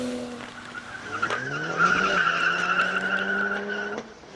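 An E90 BMW races up a mountain hillclimb course, its engine note climbing steeply through the gears with a sharp rising whine and tire squeal, loud and close as it passes.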